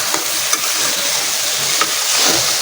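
Spiced eggplant being stirred in a hot cooking pan, a continuous close sizzle with occasional soft scrapes and clicks of the utensil against the pan.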